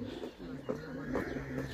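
A pigeon kept by a breeder in Sialkot, cooing in soft rounded pulses, three or four low coos in quick succession, close but quiet, with a person talking in the background.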